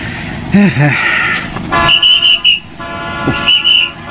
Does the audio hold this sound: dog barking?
no